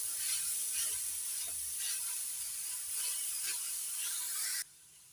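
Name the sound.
grated beetroot and carrot frying on high heat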